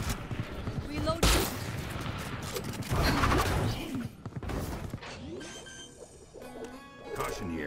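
Gunfire and impacts burst through a Valorant match, with sharp shots, a sustained volley and crashing hits in close succession, mixed with other game effects and voices.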